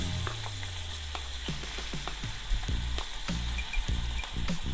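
Onions frying in oil in a pan for a bhindi gosht curry, a close steady sizzle broken by several utensil knocks and stirring scrapes, no talk.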